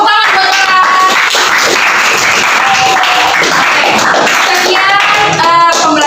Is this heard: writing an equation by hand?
no